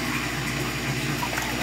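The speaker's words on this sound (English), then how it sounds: "Okay, the water started draining." Water draining out of an aquaponics tipper system, a steady rushing and gurgling flow heard close up and continuous throughout, with no voices over it.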